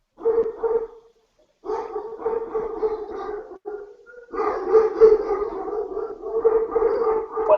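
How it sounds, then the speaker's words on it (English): A dog gives a series of drawn-out vocal yowls and barks in two or three bursts with short pauses between them. The sound is close and fairly loud, with no clear talk over it. "Whose dog is this?"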